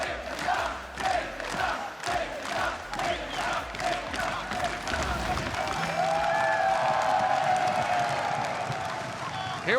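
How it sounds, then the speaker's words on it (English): A loud esports arena crowd at a World Championship match cheers and roars for Team Dignitas against Cloud9, a dense sustained din with rhythmic chant-like swells and clapping. "Clearly this crowd rooting for Dignitas."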